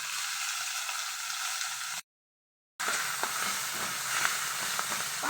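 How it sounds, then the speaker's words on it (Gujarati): Mustard seeds, cumin and a pinch of asafoetida tempering in hot oil give a steady, close hiss and sizzle with scattered crackles and pops. The sound cuts out briefly, then the frying hiss resumes. "ચપટી હિંગ નાખીને વઘારી નાખશું."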